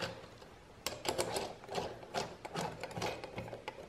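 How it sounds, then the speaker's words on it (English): Allen key turning bolts on a Seccua UrSpring mounting plate, giving faint, uneven metallic clicks and scrapes in short bursts, close and quiet with no talking. "Use the Allen key to do up the bolts."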